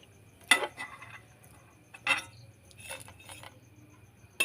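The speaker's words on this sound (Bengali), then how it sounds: "এটাও কিন্তু আমার ভাজা হয়ে গেছে, আমি তুলে নিচ্ছি" Fried crispy jhuri snacks lifted out of a frying pan, heard as scattered close clinks and scrapes of a metal utensil against the pan in short bursts, over a low steady background hum.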